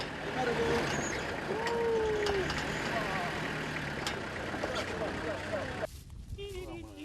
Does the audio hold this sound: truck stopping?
yes